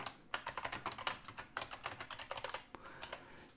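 Rapid keystrokes on a computer keyboard type out a console.log line of JavaScript, a close, quiet, fairly even run of clicks with a couple of heavier key presses near the end.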